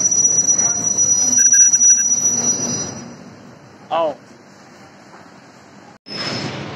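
A train rolls along platform one at Pratapgarh Junction with a steady rumble and thin high wheel squeal, then a brief sharp metallic screech, quiet gaps and a final burst of rushing noise.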